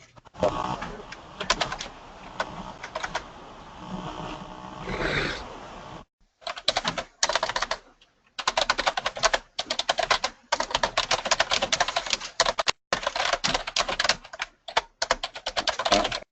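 Fast computer keyboard typing in bursts of rapid clicks, separated by short pauses, close to the microphone with no talking.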